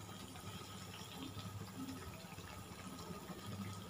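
Potato smiley snacks fry in hot oil over a low flame, giving a steady, soft sizzling hiss with faint crackles that runs evenly throughout at close range, with no talking.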